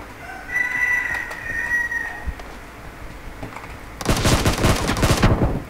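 Gunfire in the video game PUBG during a 4v4 match: a loud, dense burst of rapid automatic shots fills the last couple of seconds, after quieter in-game ambience and faint tones.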